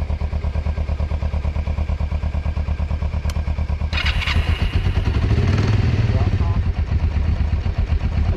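A Kawasaki motorcycle engine idles with a steady, close throb, then revs up loud and rough as the throttle opens partway through, holding a higher, fuller roar to the end.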